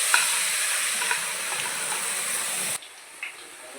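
Small drops of gram flour batter frying in hot oil for motichoor ladoo, a steady close hiss and sizzle with faint crackles, cutting abruptly to a quieter sizzle near the end, no voices.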